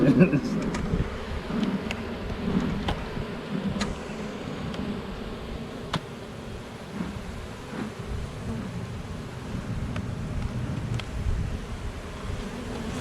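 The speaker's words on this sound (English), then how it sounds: "they're all fanning. Look at that. They're trying to find their queen." Honeybees fanning in a swarm trap give a steady, dense low buzz with scattered brief ticks and knocks on top, holding at a fairly even level throughout.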